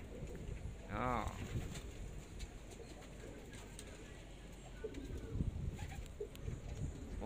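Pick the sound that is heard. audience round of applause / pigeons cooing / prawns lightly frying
pigeons cooing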